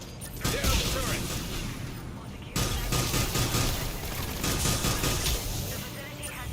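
Turret gunfire in Mass Effect 3: rapid bursts of dense mechanical shooting, loud and sustained, breaking off briefly then resuming, with voices talking over the fire.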